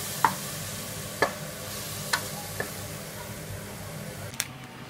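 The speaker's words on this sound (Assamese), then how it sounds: "ৰুকি লোৱা বিলাহীখিনি দিও মই এবাৰ ভালদৰে মিলাই দিম, যাতে তেলৰ লগত ভালদৰে মিক্স হৈ যায়।" Chopped tomatoes are stirred into hot oil in a pan, giving a soft steady sizzle with five distinct spoon scrapes and clinks against the metal at roughly one-second intervals.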